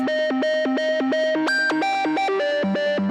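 A bright, distorted synth plays a repeating pattern of short notes that leap up and down by an octave, each tail smeared by echoing delay and reverb.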